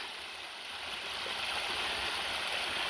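A waterfall rushing and splashing steadily after a storm, a continuous broad hiss of flowing water growing slightly louder, with no voices.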